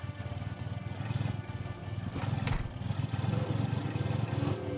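A car engine in the video game State of Decay 2 idles and revs with a steady throbbing rumble, rising a little in the second half, with a brief whoosh in the middle.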